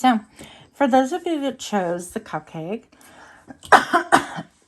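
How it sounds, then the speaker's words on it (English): Someone talks, then breaks off into a short burst of harsh coughing near the end, loud and close. "sorry for coughing in your ear"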